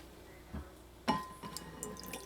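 Lukewarm water poured into a bowl of flour and salt while making homemade pizza dough, a few faint splashes and drips with one sharper clink near the middle, quiet and close.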